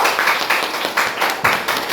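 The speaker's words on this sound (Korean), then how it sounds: "박수 한번 쳐주세요." Congregation clapping in a church, a short burst of several rhythmic rounds of hand claps heard close and fairly loud, with no talking over them.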